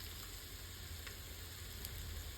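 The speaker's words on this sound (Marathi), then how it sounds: "आत्ताच आपल्याला हे तूप टाकायचं ह्यामध्ये आणि 1-2 मिनिटं चांगला हा भात व्यवस्थित परतून घ्यायचा" Rice sautéing in ghee with spices makes a faint, even frying sizzle with occasional light stirring ticks, close and steady throughout.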